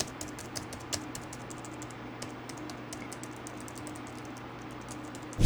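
Steady typing on a Logitech Craft keyboard, a rapid run of light clicking keystrokes close by over a low background hum, with no voices.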